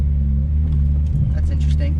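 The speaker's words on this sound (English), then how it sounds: "I'm taking a drive and recording with the new clutch in too" A car fitted with a new clutch drives along, its engine giving a steady, loud low drone with a slight rise and dip in pitch over two seconds.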